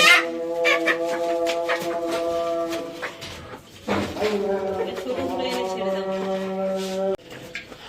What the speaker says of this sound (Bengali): ফাইনালি মুরগির ঘরে মুরগিগুলো ছেড়ে দেওয়া হয়েছে। দেখো মুরগিগুলো কি আনন্দে ঘুরে বেড়াচ্ছে